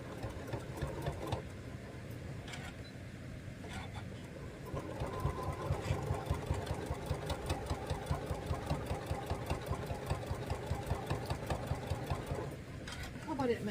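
A sewing machine runs steadily at speed, its rapid mechanical stitching rhythm loud and close, with an uneven knocking edge suggesting a needle problem, and a voice talking over parts of it.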